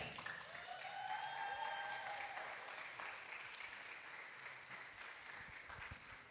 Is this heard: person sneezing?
no